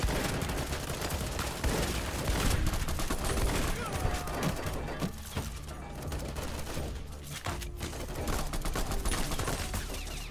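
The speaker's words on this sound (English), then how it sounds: "And I'm like sniping people with this shotgun." Shotgun blasts and other gunfire in the video game Fallout: The Frontier mod, a dense, continuous barrage of shots and bangs heard up close with a voice talking over it.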